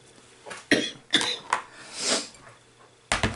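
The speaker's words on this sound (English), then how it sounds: "I don't know why it's kicked off again, this cough" Several short, raspy coughs at irregular intervals, close up, with a breathy exhale between them and another cough at the end.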